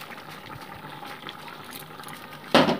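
Roasted cumin-coriander and garam masala paste dropped into hot oil for a fish curry, a sudden loud sizzle bursting up at the very end after a low steady simmering background.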